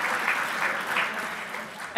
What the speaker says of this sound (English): I think that might be the first round of applause we've had